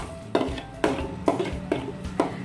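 Salt and sugar stirred into boiling noodle sauce in a pan give five evenly spaced scraping strokes, close and clear over a low bubbling simmer.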